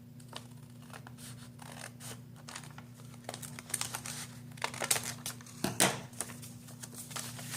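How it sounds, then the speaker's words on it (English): Scissors snipping through a sheet of paper to cut it in half, faint quick crisp snips and rustles, a sharper burst of cuts near the end, over a low steady hum. "I'm just going to use my scissors."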